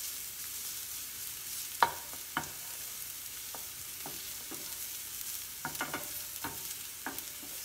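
Cauliflower risotto ingredients sautéing in a pan, with a soft continuous sizzle under scattered light scrapes and taps from a stirring utensil, close and fairly quiet.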